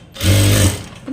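Sewing machine stitching the side seam of a blouse, a single short loud burst of fast motor-driven stitching that stops abruptly.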